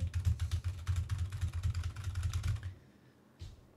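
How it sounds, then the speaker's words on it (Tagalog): Fast, forceful rage typing on a mechanical keyboard fitted with Gateron brown switches: dense, rapid clacking with heavy bottom-out thumps that stops abruptly, followed by a brief pause and one last isolated clack, with no voices. "And ganito yung tunog pag rage typing."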